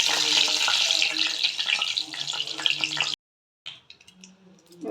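Cumin seeds, dry red chilies and a bay leaf crackle and sizzle loudly in hot oil, a dense bright spitting that stops abruptly, then resumes more faintly with scattered pops.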